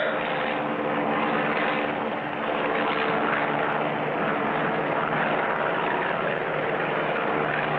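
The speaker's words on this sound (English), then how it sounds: "that plane is traveling at 100 miles an hour" A propeller airplane in a 1959 Clutch Cargo cartoon drones steadily overhead at about 100 miles an hour, a loud continuous engine roar that holds without a break.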